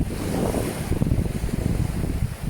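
Sea waves wash onto Jomtien beach in Pattaya with a continuous surging roar, mixed with heavy wind buffeting close to the microphone.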